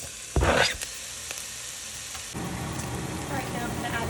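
Chopped onions and ginger drop into a hot pan and start to fry, giving a brief louder splash of sizzle and then a steady, close crackling hiss that carries on.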